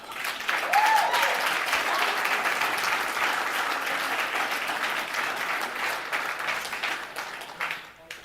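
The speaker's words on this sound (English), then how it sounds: "Thank you for clapping at that." Steady audience clapping fills a live talk show recording, dense and even for several seconds before tapering off near the end, with scattered cheers inside it.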